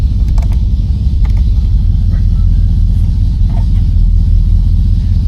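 A 1973 Oldsmobile Delta 88 engine runs at a steady idle, a constant low rumble close by with faint clicks and rattles on top.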